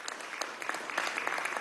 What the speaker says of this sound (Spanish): Vamos a darle un aplauso a estos periodistas de Rusia que están invitados.